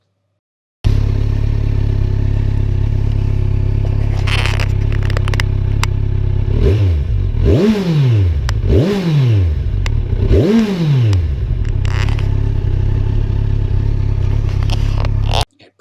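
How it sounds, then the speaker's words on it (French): A 2017 Kawasaki Z1000SX's 142-horsepower four-cylinder engine idles with a smooth, throaty rumble, then revs sharply three times in quick succession, each rise and fall loud and close, before settling back to idle. "Inutile de vous la faire longue sur son 4 cylindres de 142 chevaux, non, plutôt, je vais vous le faire entendre"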